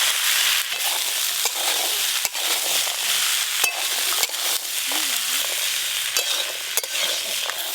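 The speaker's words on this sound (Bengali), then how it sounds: "খুব ভালো করে একসঙ্গে মিশিয়ে নেব।" A potato, pea and tomato curry is stirred and mixed in a frying pan, with steady sizzling and repeated scraping strokes of a spatula throughout, no talking.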